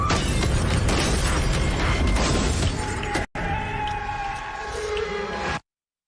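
Gunshots blast through a house window in loud, dense bursts of booming impacts and shattering, followed by a brief cutout and then a quieter stretch of ringing debris and rumble before it ends abruptly in silence.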